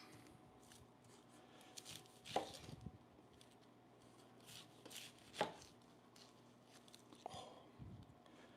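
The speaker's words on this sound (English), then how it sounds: "Just want to rough chop the garlic." A knife rough-chopping garlic on a cutting board, a few soft, quiet cuts with a couple of sharper knocks spread across a faint kitchen background.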